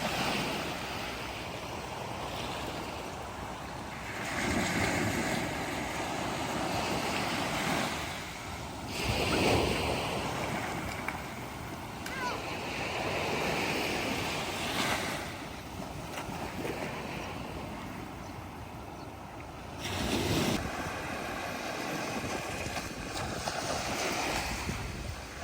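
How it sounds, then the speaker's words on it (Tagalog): Seaside waves wash in and recede in slow surges at Bukana while steady wind blows across the microphone. "Napakasarap ng hangin dito sa Bukana."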